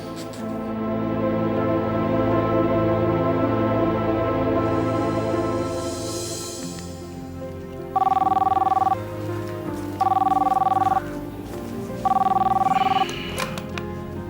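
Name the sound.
telephone ringing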